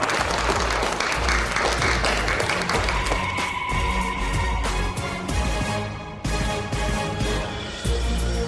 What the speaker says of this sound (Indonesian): mari kita sambut dengan tepukan hangat kepada pemenang penghargaan CEO Grup Sinar Jerry Hans